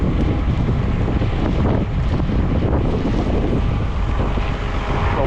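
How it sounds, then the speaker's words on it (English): Strong wind buffets the microphone outdoors on a farm during corn silage chopping, a loud, continuous, rushing roar with low gusty rumble and no pauses. "The wind's getting up."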